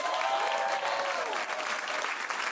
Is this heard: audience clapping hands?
yes